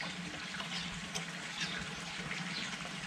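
Water pours steadily into a pot for making piranha broth, a continuous close rushing and splashing with no break.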